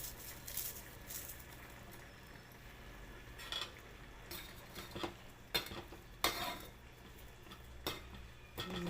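Capsicum curry stirred and mixed in a pan, with quiet scraping and clinks of a spoon against the metal, irregular and close, over a steady low background hum.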